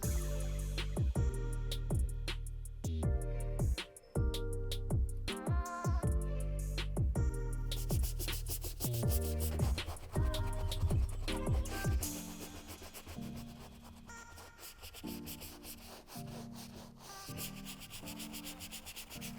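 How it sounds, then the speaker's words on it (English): A medium brush scrubs the midsole of white Common Projects basketball low-top sneakers, a close, loud, bristly rubbing in quick repeated strokes that changes to a steadier, softer scrub in the second half, with no voices. "hit up the midsole to get a deeper scrub, and I am gonna do so with the medium brush"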